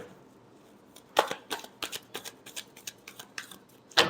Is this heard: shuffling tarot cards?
yes